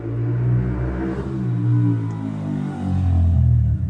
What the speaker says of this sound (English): Motorbike season.